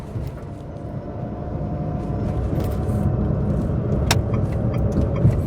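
Inside a moving BAW Pony electric quadricycle, its rear-mounted motor under the back seat gives a steady whine over continuous road rumble and tyre noise, fairly close and unbroken, with a brief click partway through.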